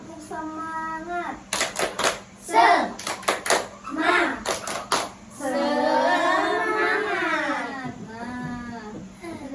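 Children in a classroom clap in quick rhythmic bursts between spoken and chanted Indonesian phrases of a clapping chant, a group voice joining in.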